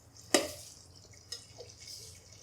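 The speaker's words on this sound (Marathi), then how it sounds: "हे बघा मी यामध्ये थोडंसं पाणी ओतलं आहे" A little water is poured into a pot of vegetable biryani, giving a sharp splash followed by a few softer drips and trickles, quiet and close.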